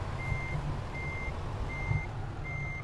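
Steady reversing beeps from a truck backing up in Euro Truck Simulator 2, four evenly spaced tones over a low diesel engine rumble, clear and constant with no talk.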